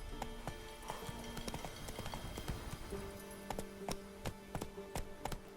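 Roach the horse gallops in The Witcher 3 video game, with a steady run of crisp, close hoofbeats clip-clopping over a low ambient bed.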